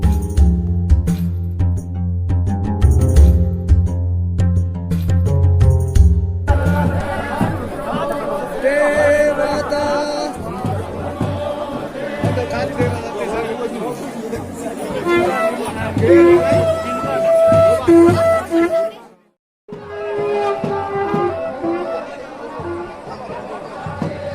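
A crowd at the Vamana Dwadashi fair fills the air with loud, continuous babble of many voices and occasional clinks, briefly cutting out near the end before resuming.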